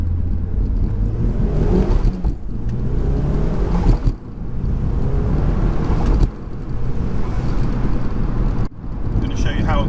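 A turbocharged Mazda MX-5 NC in a rolling first-gear pull, engine rising loudly in repeated surges broken by sharp gear-change dips, heavy wind rush over it, recorded from inside the car.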